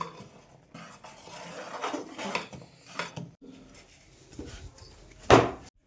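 A utensil stirs flour a little at a time into thick syrup, with sesame seeds, for ariselu, a Sankranti sweet: sparse scrapes, soft knocks and clinks against the pan, ending in one sharper metallic clack, with no talking.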